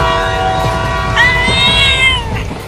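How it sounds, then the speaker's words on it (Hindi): A cat meows loudly during a chase, with a drawn-out rising and falling cry over steady background rumble that suggests a nearby train. "अरे इतना देर हो गया, अभी भी ये बिल्ली मेरा पीछा कर रही है।"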